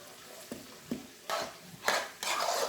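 Garlic is stirred into mashed potatoes: a few soft, separate spoon taps at first, then heavier scraping, squelching strokes against the bowl, close and moderately loud, with no voices.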